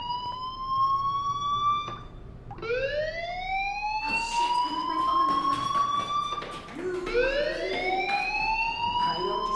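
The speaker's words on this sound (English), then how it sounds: "do you hear that fire alarm?" A fire alarm in the Life is Strange video game sounds as repeated rising electronic whoops, loud and close, cycling steadily over low background noise.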